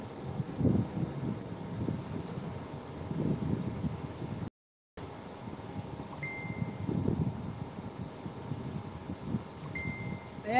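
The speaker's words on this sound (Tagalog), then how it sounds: "Nakakantok yung hampas ng hangin." Gusts of wind buffet the microphone outdoors by the water near a hammock, low rumbling surges rising and falling in several waves, with a brief dropout midway and faint high tones later.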